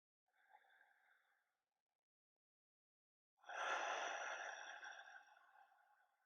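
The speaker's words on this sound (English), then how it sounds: "I'm just taking a big breath here." Two audible breaths during a yin yoga practice, a softer inhale followed after a pause by a long, louder exhale, close and with no talk.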